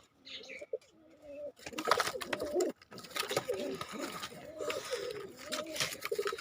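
Pigeons, including young golden and tadi pigeons, coo in low, throaty repeated calls close by, mixed with rustling and handling noises and brief interruptions.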